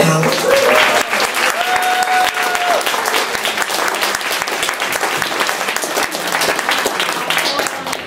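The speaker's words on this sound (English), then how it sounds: "can we please give the panelists a round of applause?" A large audience gives panelists at a discussion on race and feminism loud, sustained applause, a close, dense roar of clapping with cheers and whoops rising above it throughout.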